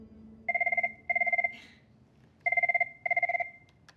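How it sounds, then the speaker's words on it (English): An office desk telephone rings in paired electronic trills, two bursts, a short pause, then two more, loud and near with faint room noise between and no talking. "Oh, we got a phone call."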